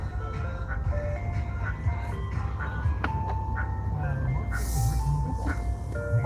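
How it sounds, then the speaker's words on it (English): An ice cream truck plays its tinny melody nearby, the repeating chime tune steady and fairly loud over low rumbling outdoor background noise, with a brief hiss of passing traffic late on. "There's an ice cream truck behind me."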